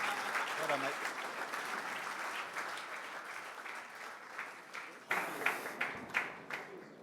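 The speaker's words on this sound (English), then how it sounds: "ladies and gentlemen, a round of applause for all our winners this evening" Applause from an awards-night crowd for cricket club winners, a steady wash of clapping that thins toward the end into scattered individual claps, with a voice speaking over it.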